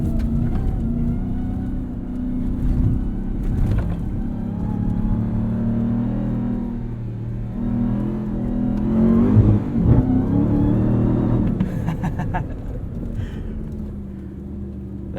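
A 2021 Ram 1500 TRX pickup engine drones and revs steadily, rising and falling as it climbs and drops over sand dune whoops, with occasional thumps and rattles.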